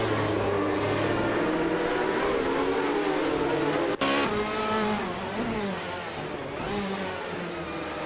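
A 1994 Ferrari F355 Challenge race car's engine roars and shifts pitch as it accelerates on track, loud and continuous with a brief dropout midway, while a commentator talks over it.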